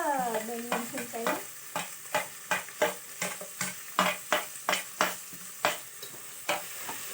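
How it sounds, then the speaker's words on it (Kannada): Tomato, beans and green chilli frying in a pan, stirred with a spoon: about a dozen regular scraping strokes over a steady background sizzle, close by and without speech. "ಹಾಕೊಂಡು ಒಂದು ರೌಂಡ್ ತಿರುಗಿಸ್ಬೇಕು ಅದನ್ನು."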